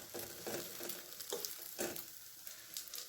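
Onion batter sizzling in a hot pan over a low flame, a soft steady crackle with a few brief louder spatters, faint and close.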